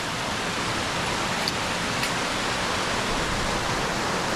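A cascade at Haweswater in the Lake District rushes with a dense, constant roar of falling water, loud and close, with no voices.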